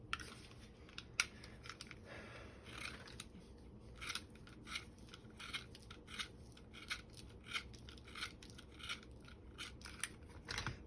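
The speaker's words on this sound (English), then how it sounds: "I like to carve my pencil out." A blade carves the point of a colored pencil with repeated short scraping and shaving strokes in an irregular rhythm, close and faint, with no talking.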